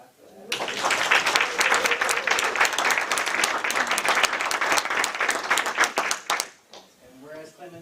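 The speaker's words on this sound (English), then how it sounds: "Can we just clap for that?" An audience at a city council work session claps in a lively burst of applause lasting several seconds before it dies away, after which a voice begins speaking.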